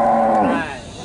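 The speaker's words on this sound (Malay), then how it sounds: "Ini adalah sapi betina," A female Ongole crossbreed cow gives a single loud, close moo that holds steady before tapering off at the end.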